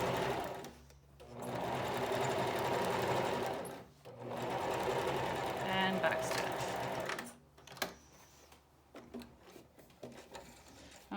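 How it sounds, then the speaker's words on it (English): A sewing machine stitches a fabric face mask with a filter pocket, running in bursts separated by brief pauses, then ending in scattered handling clicks; close and fairly quiet, with no talking. "a couple stitches, back stitch, sew to the end."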